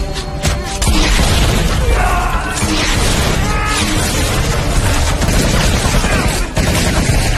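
Loud bursts of automatic gunfire crackle through a violent film attack on guards, dense and continuous with booms and crashes layered in.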